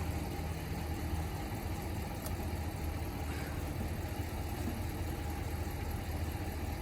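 An old car engine revved on ether starting fluid after sitting for years, heard as a steady, moderately loud, rough drone that holds continuous throughout, with a couple of faint ticks.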